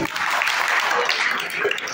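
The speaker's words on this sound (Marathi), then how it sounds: "सर्वांनी टाळ्या वाजवाव्या." An audience applauding at a ceremony held by a memorial committee, a continuous dense patter of clapping filling the room without pause.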